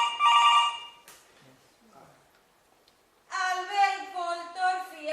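Telephone rings twice during a short amateur stage comedy at a Valencian Falla theatre event: a loud electronic ring, then a pause with faint voices, then a second ring.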